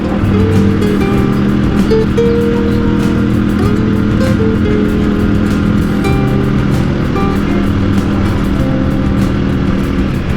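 A boat motor drones loudly and continuously at sea on the trip home, a steady engine hum with shifting tones mixed with wind and water noise, alone without talk.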